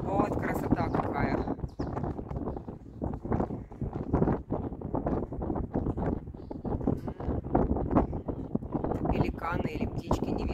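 Wind blows on a mountain in the savanna, a steady rough rush buffeting the microphone with gusty swells throughout, while a person talks.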